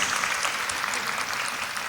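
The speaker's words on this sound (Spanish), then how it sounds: "Un fuerte aplauso también para ellos." A church congregation gives a short burst of applause to welcome newcomers, a dense, moderately loud patter of clapping lasting under two seconds.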